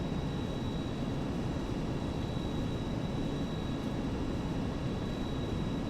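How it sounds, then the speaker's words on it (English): Jet engines held at steady takeoff power in a flight simulator, a constant broadband roar with a thin high whine running through it, loud and unchanging with no talk over it. "Takeoff power is set."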